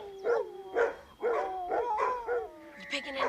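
Dogs barking somewhere ahead, a run of several rhythmic barks and yips heard over a steady electronic buzz with voices nearby.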